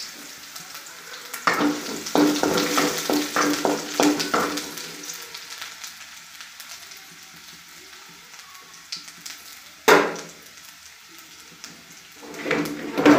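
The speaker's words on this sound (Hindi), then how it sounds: "तेल हमारा अच्छे से गर्म हो चुका, अब डालते हैं इसमें अदरक" Ginger dropped into hot oil fries with a steady crackling sizzle, loud and close, interrupted by stirring clatters, then settling into a quieter hiss with a couple of sharp bursts near the end.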